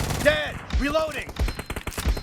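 Gunshots crack in the mobile shooter BGMI, a few sharp rapid reports and thuds mixed with shouted voices nearby.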